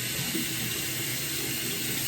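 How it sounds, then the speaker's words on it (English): Running tap water splashes steadily from a sink as someone rinses their face with cold water, a close, continuous wash with no talk. "And we're rinsing our face with cold water."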